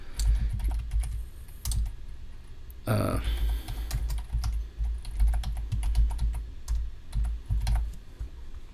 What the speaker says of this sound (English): I'm going to type it up here.